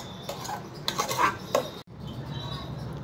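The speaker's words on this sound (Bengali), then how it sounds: "হ্যাঁ তুমি চামচ দিয়ে ফাটাচ্ছ।" A spoon beats and cracks curd in a bowl for a Holi bhang drink at home, giving a run of irregular clinks and scrapes against the dish that are close and moderately loud, then a short break before softer stirring resumes.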